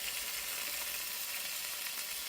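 Chicken browning with a little burnt sugar in a hot pan for ginger chicken, a steady, even sizzle and crackle of frying throughout with no pauses.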